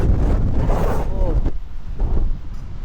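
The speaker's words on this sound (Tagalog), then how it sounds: "mahangin siya." Gusty wind blows across the microphone outdoors on a cold street in Toronto's Chinatown, a loud continuous rumble that dips briefly midway, with a voice talking over it.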